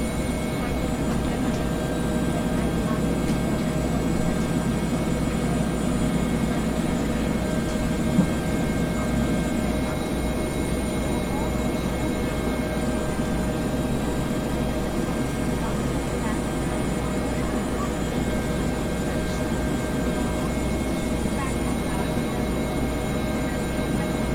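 Steady droning rotor and turbine hum of a simulated Bell 412 helicopter in X-Plane 11, constant and loud throughout with a tonal whine, a voice talking over it.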